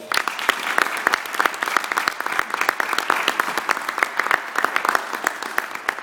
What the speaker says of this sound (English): Would you all give them a round of applause?